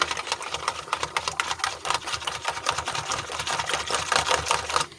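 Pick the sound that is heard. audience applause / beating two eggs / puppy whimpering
beating two eggs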